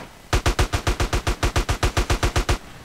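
Rapid automatic gunfire in GTA San Andreas, a single close, loud burst of about sixteen evenly spaced shots lasting a couple of seconds, with no talk.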